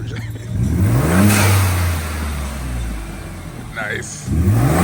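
Exhaust of a Ford F-150 pickup, EcoBoost or Coyote V8, revving in rising and falling bursts, loud and close, with voices talking over the engine.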